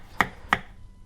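Two sharp knife chops through tomato on a cutting board, evenly spaced about a third of a second apart, close and crisp with quiet space after.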